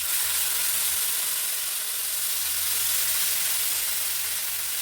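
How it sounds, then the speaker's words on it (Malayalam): Water poured into a pan of sizzling egg curry, a steady broadband sizzle and hiss holding evenly throughout with no voices. "ഇതിലേക്ക് നമുക്ക് കുറച്ച് വെള്ളം ഒഴിക്കാം"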